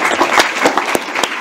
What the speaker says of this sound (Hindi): अमन, तालियों से धन्यवाद दें